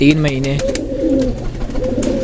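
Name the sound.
pigeons cooing in loft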